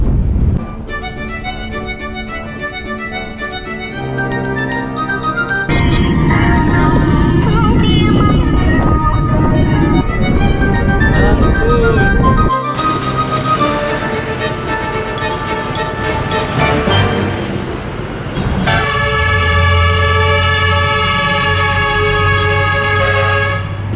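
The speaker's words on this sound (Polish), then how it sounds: "Trąbią na wszystko i każdy ma inny sygnał." Traffic in northern Vietnam with vehicle horns of varied pitch tooting and blaring one after another, loud and close, amid engine noise, with an occasional voice underneath.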